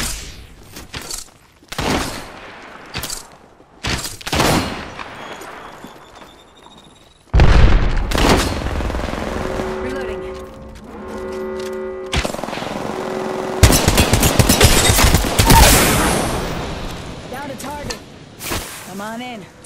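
Apex Legends gunfire: scattered single shots and booms early on, then dense sustained bursts and explosions, loud and close, with in-game voice callouts mixed in.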